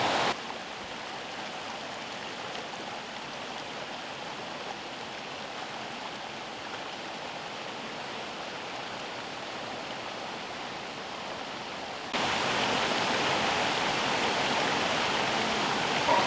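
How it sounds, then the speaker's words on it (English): Small waterfall cascades at Nant Mill in North Wales, a steady, even rush of tumbling stream water that grows slightly louder and brighter near the end, with no voices. "I'm using this cascade in front of me."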